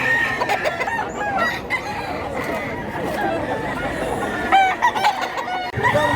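A young gamecock stag, about a year old and of Gilmore line, crows repeatedly among other roosters and clucking fowl at an outdoor poultry sale in Mantalungon, Barili, Cebu, with people chattering faintly in the background.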